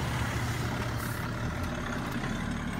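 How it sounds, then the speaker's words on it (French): Car passing on a road during a dog's off-leash training walk, heard as a steady low rumble of engine and tyre noise that stays loud and close through the whole stretch, with no talking. "Il y a la voiture qui passe."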